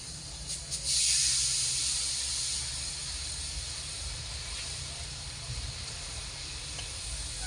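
Sugarcane jaggery hits a hot kadai on a gas flame, giving a sharp burst of hissing that settles into a steady, quieter sizzle with no talk.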